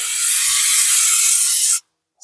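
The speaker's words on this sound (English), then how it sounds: "spray with the brake clean" Brake cleaner sprayed onto the front brakes of a 2023 Subaru Crosstrek during a pad and rotor job, one long loud hissing burst close by that cuts off sharply, then a brief second puff.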